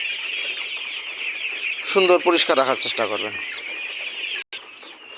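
Chickens on a layer pullet farm cluck and chirp steadily throughout, with a dense background of bird noise and someone talking over them in the middle.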